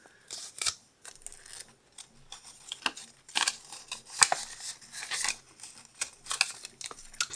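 Paper banknotes being folded for cash stuffing, close and quiet, with irregular crisp rustles, creases and crinkles separated by short pauses.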